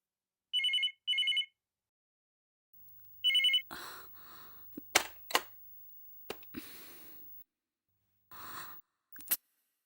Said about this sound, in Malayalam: ഫോൺ അടിച്ചോണ്ടിരിക്കുന്നു പക്ഷെ ആരും എടുക്കുന്നില്ല